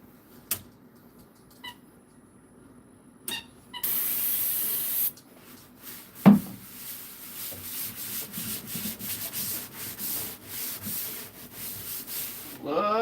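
A knife blade is worked against a 600 grit abrasive in scattered soft rubbing strokes, with a sustained hiss partway through and a louder, rhythmic run of sanding passes toward the end.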